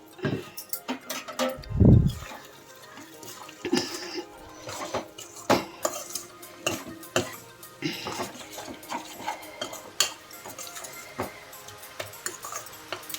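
A spoon stirs mutton cooked with chukka kura sorrel greens in a metal pot on the stove, giving scattered close clinks and scrapes with one louder knock near the start.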